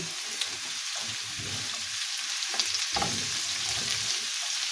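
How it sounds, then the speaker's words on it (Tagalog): Vegetables fry in a pan with a loud, continuous sizzle while a utensil stirs them, giving occasional scraping sounds over the steady hiss. "Haluin natin mga guys."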